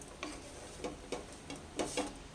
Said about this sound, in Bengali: এটাকে আরেকটু আমি ভালো করে ভেজে নেবো তাহলে রেডি হয়ে যাবে ভাতটা